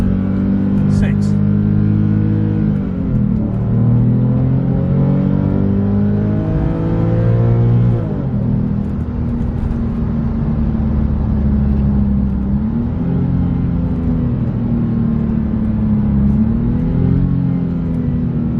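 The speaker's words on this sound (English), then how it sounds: "go back and just go up the rev range a bit more slowly and hear the sound" A Porsche 996 exhaust revs slowly and steadily up the rev range, a loud, close, continuous engine drone whose pitch climbs and dips, with a voice speaking over it.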